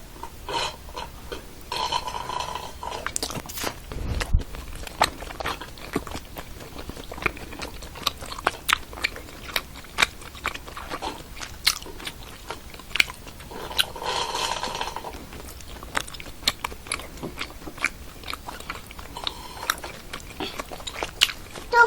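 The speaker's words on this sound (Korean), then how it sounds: "한번 먹어보겠습니다. 누들떡부터" Noodle-style tteokbokki rice cakes are chewed and slurped up close, with soft repeated sticky chewing and occasional utensil clicks, intimate and rhythmic.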